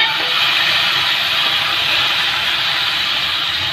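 Broccoli and carrot stir-frying in a hot pan, giving a steady, even sizzle that holds at a constant level throughout, with no voices over it.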